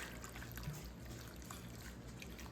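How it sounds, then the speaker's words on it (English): A quart of vitamin D milk is poured into a crockpot over potatoes, a steady, quiet liquid trickle that runs on without a break. "Now I'm going to come in with my vitamin D milk"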